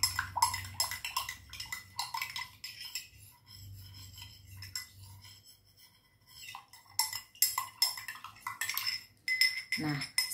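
A utensil clinks and scrapes against lab glassware while stirring a food-colouring solution, in irregular bursts of close, bright taps with a short pause in the middle.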